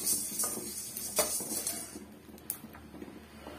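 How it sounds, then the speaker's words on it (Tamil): Spices being dry-roasted and stirred in a pan over medium heat for a village-style goat trotter curry, with soft scraping and occasional light metallic clinks of a spoon against the pan. "நம்ம சேர்த்துருக்கிற பொருள் எல்லாம் ஒரே அளவா நல்லா வறுபட்டு வர்ற மாதிரி நீங்க வறுத்தி விடுங்க"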